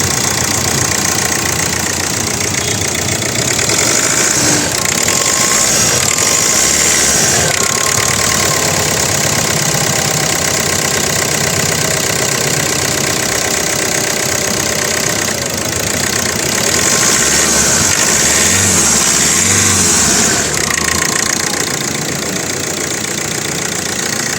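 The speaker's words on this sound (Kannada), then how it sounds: "ಇಂಜಿನ್ ರನ್ನಿಂಗಲ್ಲಿದೆ" Diesel engine of a 2013 Hyundai Verna Fluidic idling in very good condition, a steady close rumble with a faint rhythmic knock that holds evenly throughout without speech.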